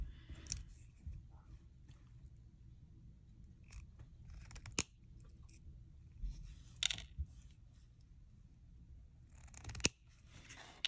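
Side cutters snipping a coiled wire into jump rings, heard as a few sharp, close metallic clicks spaced several seconds apart, with light handling sounds between them and no talking.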